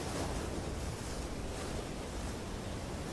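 Steady ocean surf from a fishing video game, a continuous broad wash of waves with a light breeze mixed in, even and unbroken, moderately loud with no voices.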